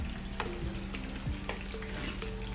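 Tomato curry with added water bubbles and sizzles in a pan, a steady close simmer with occasional stirring scrapes and no voices.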